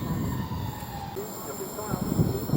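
A train departing Rochester railway station, a low rolling rumble with clattering wheels and a faint high whine, heard at a moderate distance; a voice is faintly present underneath.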